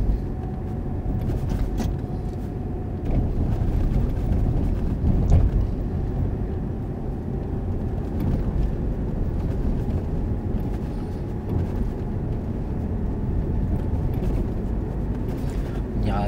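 A car's engine drones steadily while driving and shifting into third gear, a continuous low rumble with road noise, close and fairly loud throughout, with no clear gear-change break.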